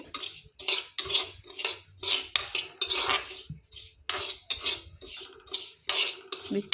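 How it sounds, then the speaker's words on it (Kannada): Cardamom pods and cloves are stirred as they roast in a pan, with a metal spoon scraping and clinking against the pan in a quick, irregular series of bright strokes, close and clear, with no voices. "ಇದಕ್ಕೆ ಒಂದು 7ರಿಂದ 8 ಏಲಕ್ಕಿ ಮತ್ತು 10ರಿಂದ 12 ಲವಂಗ ಹಾಕಿ ಹುರ್ಕೊಳ್ತಾ ಇದ್ದೀನಿ."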